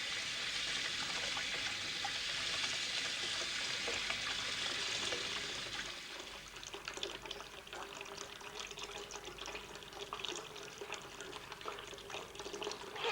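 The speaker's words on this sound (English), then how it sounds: "It splashes and sloshes. It pours and flows, glugs and drips and overflows." Water pours and splashes steadily at a moderate distance, a smooth rushing flow that turns into a rougher, sloshing spatter partway through, with no talking.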